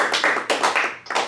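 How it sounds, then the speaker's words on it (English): A room of people claps for a man named Phil at a community center meeting, a short burst of close, steady applause with a brief lull before it picks up again. "let's clap for Senor Phil"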